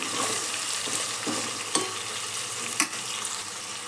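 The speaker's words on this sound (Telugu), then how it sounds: "ఇవి కూడా ఆయిల్లో 1 నిమిషం పాటు ఇలా ఫ్రై చేసుకోవాలి." Tomato pieces and curry leaves fry in hot oil with a steady, bright sizzle, broken by a few sharp stirring clacks against the pan.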